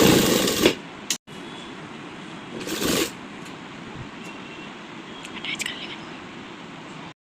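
A sewing machine stitches a baby frock in short, rapid whirring runs broken by pauses, close by, with a voice heard at moments.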